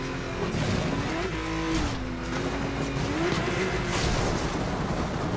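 A racing car accelerates in Need for Speed Most Wanted 2012, its engine droning steadily and rising and falling in pitch under a loud, continuous roar of road and wind noise.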